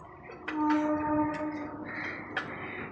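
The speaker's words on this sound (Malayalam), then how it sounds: "ട്രെയിൻ പോണ ഒച്ച അങ്ങനെ കേൾക്കുന്നുണ്ടോ?" Near a railway station, a passing train gives a tonal horn or whistle and a rumble, with a few sharp metallic clanks over a low background, heard alone.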